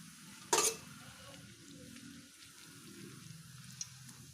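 Bread slice dropped into hot oil for a quick snack, setting off a sudden loud burst of sizzling that settles into a steady, quieter bubbling fry.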